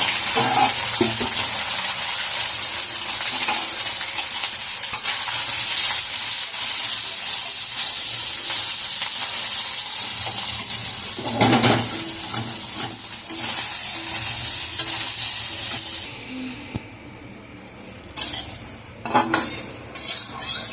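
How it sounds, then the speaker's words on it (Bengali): Soaked, washed and squeezed soybean chunks fry until reddish in a pan, giving a steady close sizzle with spoon stirring and scraping throughout. The sizzle drops near the end, broken by a few sharp clanks of utensil against the pan. "এবার এটাকে লাল লাল করে ভাজবো।"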